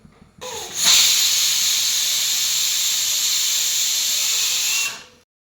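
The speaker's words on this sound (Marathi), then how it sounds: "आता आपण याच्या दोन ते तीन शिट्ट्या करून घेऊयात" A loud, steady hiss of steam bursts from a pressure cooker whistle while cooking pumpkin, holding for several seconds before cutting off abruptly.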